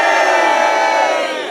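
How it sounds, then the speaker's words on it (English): A crowd of children cheers together in a loud, sustained burst of shouting that holds steady and then eases slightly toward the end. "And let's just give big cheer to these guys"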